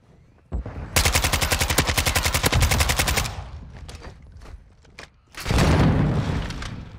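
Rapid automatic gunfire in Call of Duty: Modern Warfare II, a long rattling burst of evenly spaced close shots, a few scattered single cracks, then a second heavy roaring burst.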